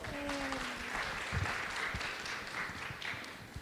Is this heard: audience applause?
yes